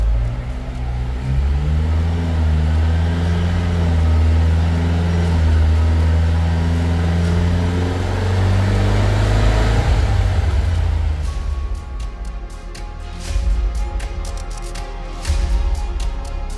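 A Fiat Abarth Grande Punto engine, its gearbox swapped to a DSG DQ250, cranks, catches and revs up loudly with a steady rising drone close by, then settles to a quieter idle punctuated by clicks.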